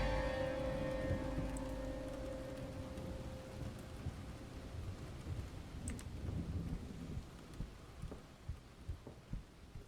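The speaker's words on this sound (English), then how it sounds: "This torrential rain sounds more potent than usual" Torrential rain pours in the video game Ten Bells, a dense hiss with low thunder rumbles, under a fading musical drone that gives way to rhythmic dull thumps.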